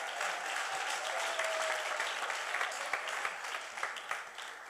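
A church congregation applauding steadily at moderate distance, a dense patter of many hands that thins toward the end, with faint crowd murmur beneath.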